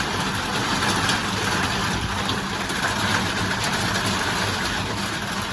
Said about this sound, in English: Rain on a metal roof.